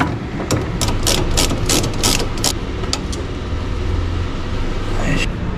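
A ratchet wrench turns the stabilizer link nut on a Mazda Bongo SK82V, giving a quick run of sharp clicks over the first few seconds, then sparser ticks against a steady background hum.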